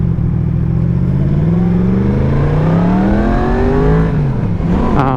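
A 2020 Yamaha MT-10 motorcycle engine drones loud and steady as the rider turns around, its pitch rising and falling gently with throttle, then dipping and climbing at the close.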